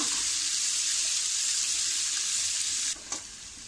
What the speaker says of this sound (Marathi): आता हे व्यवस्थित आपण परतून घेऊया कांदा।